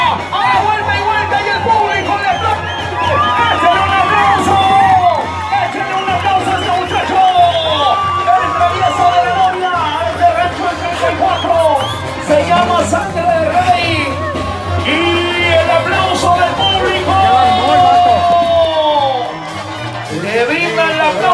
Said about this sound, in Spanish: ¡Échale un aplauso!